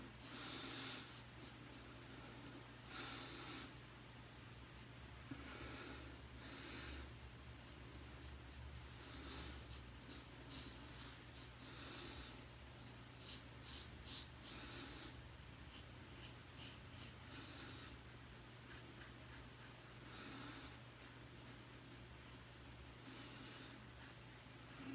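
A King C. Gillette safety razor scrapes across stubble against the grain, a close, quiet rasping in rapid repeated strokes with brief pauses, alone without talk.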